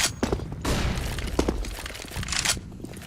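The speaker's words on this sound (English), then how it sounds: "I'm throwing flashbang" A flashbang grenade goes off in a Counter-Strike match, a sharp burst with a bright, hissing crackle, followed by scattered thuds and a second burst near the end, with no talk.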